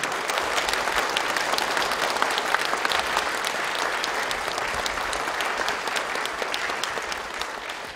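A church congregation applauds steadily at an induction service for a new pastor, with dense, even clapping sustained throughout and no talking over it.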